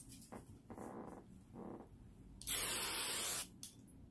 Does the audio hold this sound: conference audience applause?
no